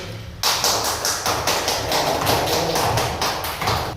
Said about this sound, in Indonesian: Ustaz kasih aplaus karena tadi bersemangat belajarnya